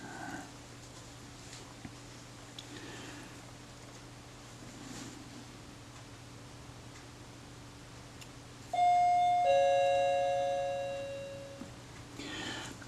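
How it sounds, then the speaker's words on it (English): A wireless doorbell set off at random by a stray RF signal sounds a two-note electronic chime, loud and clear, that rings out and slowly decays after a stretch of quiet room hum. "That's just the doorbell going off at random to some random RF signal in the neighbourhood."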